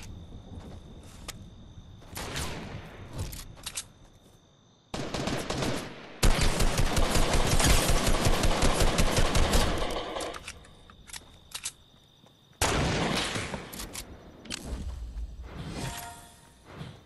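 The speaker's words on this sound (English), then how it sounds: "I see shots coming in from this way." Gunfire in a first-person shooter game with shotguns, loud bursts of shots and rapid rattling volleys broken by brief quiet gaps, with a long sustained stretch of fire in the middle.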